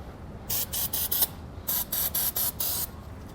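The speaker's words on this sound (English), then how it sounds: "We'll go ahead and spray those down now" Short hissing bursts from an aerosol can of penetrating oil sprayed during a trailer hitch install on a 2021 Chrysler, about nine quick sprays in two clusters, close and fairly loud with quiet gaps between.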